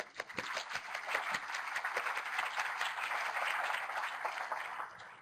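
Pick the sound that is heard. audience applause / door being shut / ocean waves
audience applause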